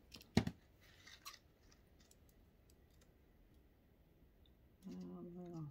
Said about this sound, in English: I love these heavy duty scissors because they're just like wire